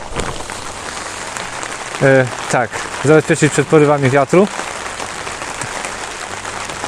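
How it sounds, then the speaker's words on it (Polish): Rain falls steadily on a plastic garden tunnel in gusty weather, a constant pattering hiss that continues under a man's brief speech in the middle. "Chyba, że deszcz przestanie padać, to może."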